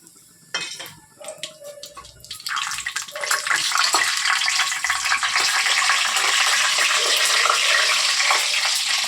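Whole garam masala and bay leaves dropped into a hot wok: a few clinks of metal at the start, then a loud, steady, broadband sizzle that builds and holds, with no speech.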